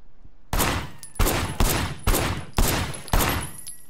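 Six loud, evenly spaced gunshots in the Sleeping Dogs video game, each a sharp close blast trailing into a short decay, fired roughly every half second with no talking between them.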